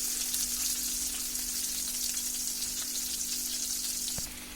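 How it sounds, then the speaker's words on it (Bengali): Chopped onion, garlic and dried chilli frying in hot oil for a spinach dish, a loud, steady crackling sizzle close up, with a single sharp utensil knock near the end before the sound eases slightly. "এটাকে হালকা একটু ভেজে নেব।"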